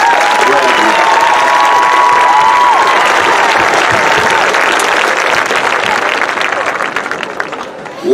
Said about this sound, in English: Ladies and gentlemen, another round of applause for these